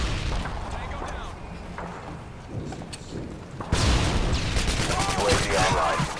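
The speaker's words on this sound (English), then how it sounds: "Tossing a flashbang!" Rapid gunfire bursts and a sharp flashbang burst play out in a Call of Duty Modern Warfare 2 Domination match on the Skidrow map, with the action turning louder and denser partway through, while a player talks over it.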